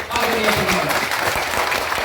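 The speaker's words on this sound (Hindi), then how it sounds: "एक बार जोरदार ताली बजाइए" Audience at a Jan Suraaj political rally in Bihar clapping loudly on cue, a dense, steady wash of many hands sustained for about two seconds with no voices over it.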